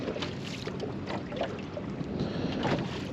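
Steady wind rushing over open water and buffeting the microphone while fishing from a boat, a constant loud roar with gusty swells and no speech.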